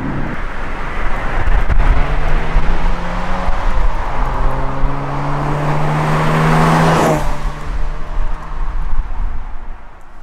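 A MK2 Ford Fiesta XR2 accelerates hard on a race course, its engine note climbing loudly through several gear changes before a sharp peak and easing off.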